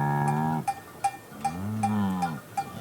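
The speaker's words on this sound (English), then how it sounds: "Cow." A cow lows twice, a short moo then a longer, deeper one, while a cowbell clanks rhythmically in the background at moderate distance.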